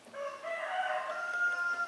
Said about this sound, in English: cockerel is back. They didn't eat him for Christmas, or maybe it's a new one.